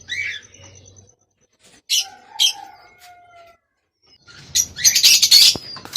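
Prized pigeons kept by a breeder in Lahore flap their wings in short bursts, close by, mixed with chirps and squawks and separated by brief quiet gaps.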